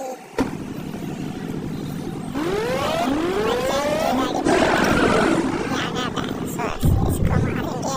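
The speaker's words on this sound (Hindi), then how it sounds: "ये मेरी सबसे महंगी गाड़ी।" Engine of an expensive car driven in a dinosaur-hunting video game, a steady loud motor drone with rising revving sweeps, mixed with game sounds and animal-like roars throughout.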